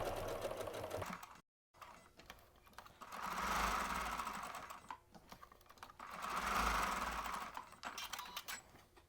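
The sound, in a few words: sewing machine stitching around quilt block edge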